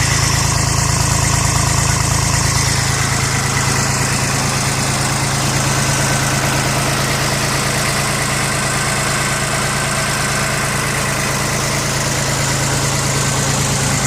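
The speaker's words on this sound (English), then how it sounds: "It's a 3-cylinder diesel, 23 horsepower" A Yanmar FX18D 4wd compact tractor with a 23-horsepower 3-cylinder diesel engine idles close by. It holds a steady, loud, even throb with a constant low hum and no voices.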